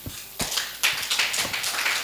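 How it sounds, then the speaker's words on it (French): A studio audience in a garderie-themed television magazine gives sparse, fairly faint applause welcoming a school director, scattered claps building into a loose patter. "nous allons le recevoir ici avec des applaudissements bien nourris, s'il vous plaît"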